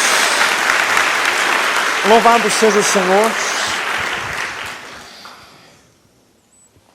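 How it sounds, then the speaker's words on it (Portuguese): Church congregation applauds in a steady dense wash that fades away over the last seconds, while a voice speaks briefly over the clapping. "Dê uma salva de palmas a Jesus."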